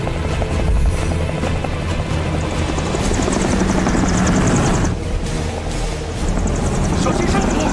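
Aircraft battling strong turbulence in an action film, a heavy rotor-like engine roar that stays loud and continuous with rumbling buffeting, voices briefly heard beneath it.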